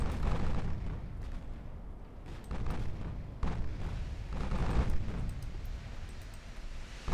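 Naval gunfire in the video game Ultimate Admiral Dreadnoughts: deep rumbling booms and blasts roll over one another in a dense barrage, with distinct heavier salvos standing out at moderate loudness.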